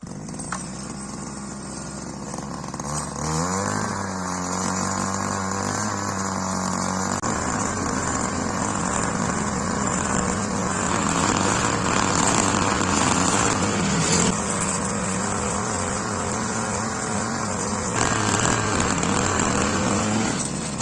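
Small gasoline engine of a Forte MKB-25 lux mini motor cultivator running continuously nearby, a steady buzzing drone that revs up after a few seconds and holds with slight load changes.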